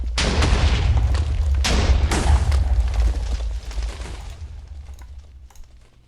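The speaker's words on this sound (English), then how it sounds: "Explosions." Booming blasts in the Minecraft modpack Forgecraft2, several heavy explosions in quick succession at the start, then a rumbling, crackling tail that fades out.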